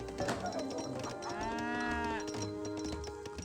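Cattle lowing at a trading post in Age of Empires 3: Definitive Edition, one drawn-out moo rising in the middle over steady game ambience and faint background sounds.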